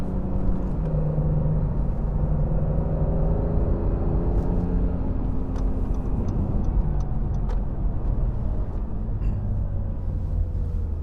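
Honda NSX engine drones steadily from inside the car while driving, a constant low rumble with faint ticking over the top.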